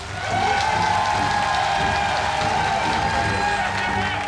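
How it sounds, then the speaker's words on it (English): Studio crowd on a cooking competition show bursts into sustained applause and some cheering to vote for the challenger, a loud, even wash of clapping that holds steady for several seconds. "if you think Kevin's gonna win, clap your hands."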